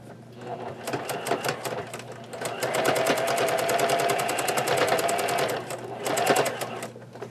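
A sewing machine stitches overlapped scrap fabric strips under the presser foot, running in loud, rapid bursts with a long steady stretch in the middle and brief pauses at the start and end.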